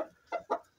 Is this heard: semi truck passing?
no